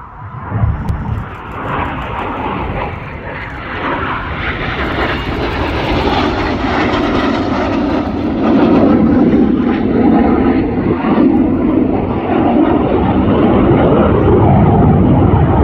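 The Red Arrows synchro pair of jets roars past at an air festival display, a loud, broad, continuous jet rumble that builds and holds steady, with no voices over it.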